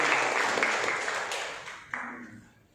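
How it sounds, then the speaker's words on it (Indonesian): Applause from a church seminar congregation in Manado, a dense wash of clapping that fades gradually, with a brief louder burst near the end before tapering off. "Tepuk tangan untuk Tuhan juga."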